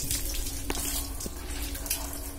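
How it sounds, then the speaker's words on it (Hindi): Water gushes steadily into a motorbike fuel tank close up, a continuous splashing pour with faint clinks, no talking. "पहले पानी डालते हैं टैंक में।"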